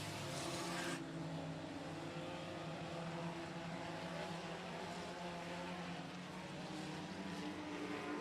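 Race cars lapping the 105 Speedway oval in a regular race program, heard as a continuous loud roar of engines from the track that stays dense and steady throughout.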